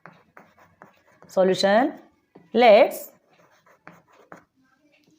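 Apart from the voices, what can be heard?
teacher writing out a maths solution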